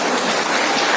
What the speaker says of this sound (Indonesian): Ini tepuk tangan untuk Pak Kapolda.